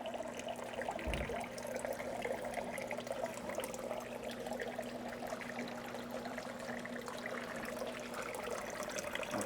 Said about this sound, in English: We have water going to everywhere that we need it to go.